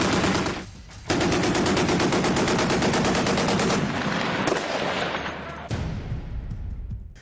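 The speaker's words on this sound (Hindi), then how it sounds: "शानदार सुपर रैपिड गन का मजा लीजिए" Super rapid naval gun on a Type 055 destroyer firing a long sustained burst of rapid rounds, loud and dense, with a brief pause before firing resumes and rumbling echoes.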